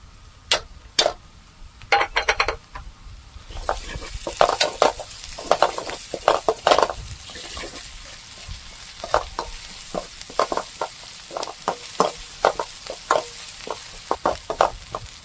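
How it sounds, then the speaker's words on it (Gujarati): Ginger, garlic and chili paste sautéing in a pan for dhaba-style chole, a steady hiss with frequent sharp clinks of a spoon against metal through the clip, close and clear, no talking. "જો હવે આદુ મરચાંની પેસ્ટ સતળાઈ ગઈ છે"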